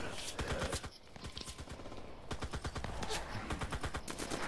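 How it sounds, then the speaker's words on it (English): Gunfire in the online shooter CRSED, dense bursts of rapid shots cracking loud and close in rhythmic volleys, with scattered speech mixed in. "There's another dude shooting me."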